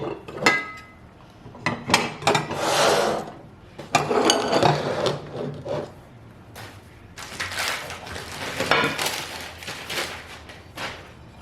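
Royal Albert Old Country Roses china plates, saucers and dishes clinking and knocking as they are unpacked, with bursts of clatter, rustling and soft thuds spread through the whole stretch.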